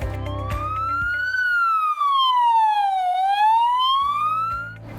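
An ambulance siren wails in one long, smooth rising and falling sweep, loud and near, over a faint low hum.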